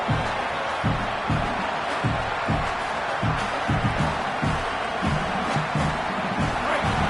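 A dense football stadium crowd roars on fourth down during a Miami preseason game, a loud, continuous wall of cheering with a rhythmic low thumping running through it and no clear voices on top.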